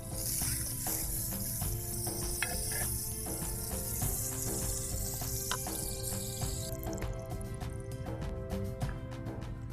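Butter sizzles steadily in a hot pan, a continuous crackling hiss with small pops and faint clicking running throughout, no one speaking.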